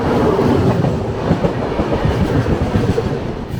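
Patna–Kota Express passing close by on the adjacent track, heard from a moving train during a crossing: a loud, continuous roar with rapid clickety-clack of wheels over rail joints throughout.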